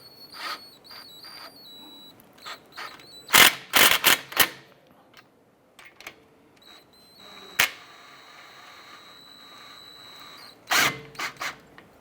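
Bolts for a brake caliper on a 2009-2015 Honda Pilot are installed with quick ratcheting clicks and metallic taps in short, irregular bursts, with a few sharp louder clacks between quieter gaps.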